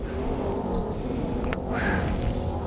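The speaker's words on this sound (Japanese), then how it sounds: "時々ギャッ ジャみたいな鳥の声なのかなっていうのが聞こえてきたんですけど" A bird calls a few times with short harsh chirps in a mountain forest, faint and distant over a steady low rumble of wind or footsteps, with no talking.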